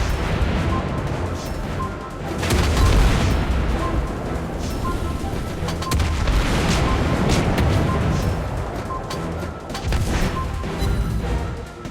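Torpedo hits and naval gunfire from a Harugumo destroyer in the game World of Warships Blitz, dense rumbling blasts and crashing impacts that swell and fade in loud, continuous battle noise.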